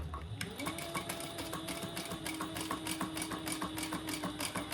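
A sewing machine runs steadily, stitching along both sides of the bottom seam of a crossbody bag, topstitching about a quarter inch from it, with a continuous close, even mechanical hum and rapid needle ticking throughout.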